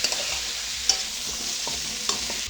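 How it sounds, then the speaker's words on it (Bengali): Papaya, potato and carrot being stirred in a hot pan, a continuous bright sizzle broken by a few scraping strokes of the spoon, close and steady. "কেটে রাখা পেঁপে আলু আর গাজর সবজিগুলো দিয়ে আবারও বেশ কিছু সময় ধরে নাড়াচাড়া করতে থাকবে"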